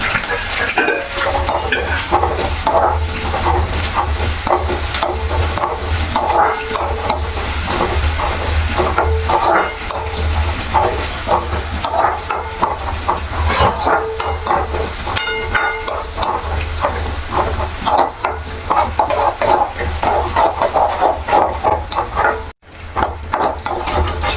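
Green chillies fry in hot oil with a loud, continuous sizzle and hiss. Frequent scraping and clinking from stirring in the pan run throughout.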